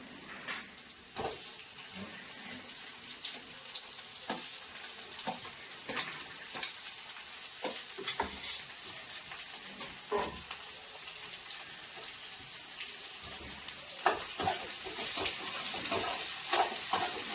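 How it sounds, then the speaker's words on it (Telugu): Onions frying in oil in a pan for a Telugu-style ridge gourd curry, a steady broadband sizzle running throughout with repeated scraping and stirring clicks of a spoon against the vessel, close and alone. "ఆనియన్ అంతా వేసి ఆయిల్లో అట్లా బాగా ఫ్రై చేస్తాను"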